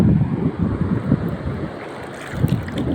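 Wind at the shore buffets the microphone in low, gusty rumbles, with a faint wash of water in the background and no voices.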